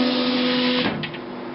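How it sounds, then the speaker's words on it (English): An HP Designjet Z3200 large-format printer finishes a test page, a steady mechanical whir with a hum that stops abruptly partway through. A few short high chirps and a quieter residual hum follow, with no voices. "There we have it, a successful Windows XP printer test page."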